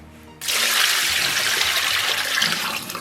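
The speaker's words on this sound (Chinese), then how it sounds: "然后给里边来点82年自来水" Tap water gushing into a pot after a brief quiet start, a loud, steady splashing stream that continues close by until the end.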